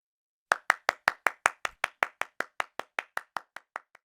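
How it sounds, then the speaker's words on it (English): A cartoon Pokémon claps in a cheer squad: about eighteen sharp, evenly paced claps, loud and close, with no talking. "Now start clapping."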